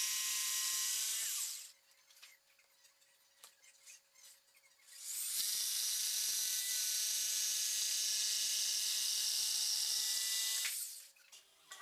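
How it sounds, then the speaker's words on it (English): A jigsaw cuts the toe kick out of plywood cabinet sides for a miter saw station, two long buzzing runs of sawing separated by a quieter pause. "I'll use my jigsaw and my hand as a guide along the edge to cut a nice straight line"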